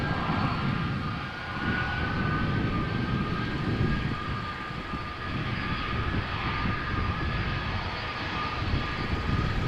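Aircraft engines at Amsterdam Schiphol Airport give off a loud, continuous, rumbling roar that swells and eases slightly, with no voices.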